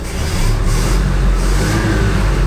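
A 1967 Ford F-100 engine, revived after sitting for years, runs loud and close with a steady low rumble, swelling in a couple of throttle blips that rev it up and let it settle back.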